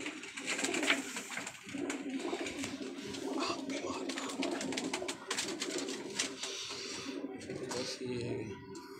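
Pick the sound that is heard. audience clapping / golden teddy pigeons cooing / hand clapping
golden teddy pigeons cooing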